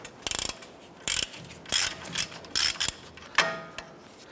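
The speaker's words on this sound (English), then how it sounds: "Let's go ahead and loosen this nut." A ratchet on a 21mm socket loosens a nut on a 2011-2018 Ram 1500's front suspension, giving short bursts of fast ratcheting clicks separated by pauses, fairly close and quiet.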